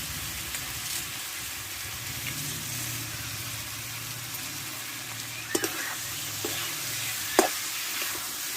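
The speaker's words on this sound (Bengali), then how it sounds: "আর দেবো ডালটা যে আমি ভেজে রেখেছিলাম ভালো করে ধুয়ে নিচ্ছি জল ধরিয়ে আমি এটা দিয়ে দেবো" A steady, moderate sizzle as washed, fried mung dal goes into a hot pan with pumpkin, broken by a few sharp spoon scrapes and clicks near the end.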